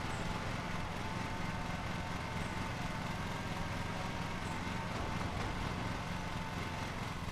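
Riding lawn mower engine in the Lawn Mowing Simulator video game on Xbox Series X, a steady, moderately faint drone that holds an even level throughout with no talking.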